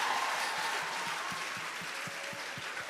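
Audience applause at a women's conference men's panel session, a steady wash of clapping with some rhythmic low thumps running throughout, moderately loud and without speech.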